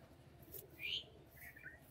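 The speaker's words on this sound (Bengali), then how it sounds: "এটা হচ্ছে নর পায়রা।" A male pigeon held in the hand gives one short, close call mid-way, with faint rustling around it.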